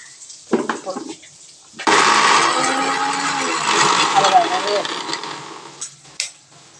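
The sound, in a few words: mixer grinder grinding garlic and spices for rasam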